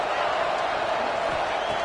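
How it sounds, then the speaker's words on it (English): A crowd cheering in an NCAA college football video game, a dense, continuous roar that stays steady and loud throughout, with no distinct voices. "Third down, and the crowd really getting into it."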